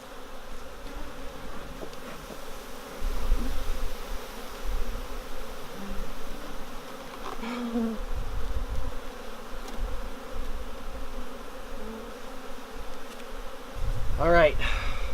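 Honeybees swarming around a queenless hive, a loud, close, continuous buzzing that swells and fades as insects pass near, with a brief voice-like sound near the end.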